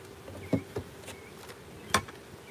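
Honey bees at an open hive during a live beekeeping job make a faint buzz of wings passing nearby, with a few brief knocks and clicks over it, all quiet and without voices.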